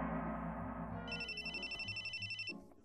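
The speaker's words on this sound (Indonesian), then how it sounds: "Tunggu, ada telepon." A telephone rings in a drama scene, a warbling electronic ringtone that starts partway through over a low background murmur, then cuts off near the end.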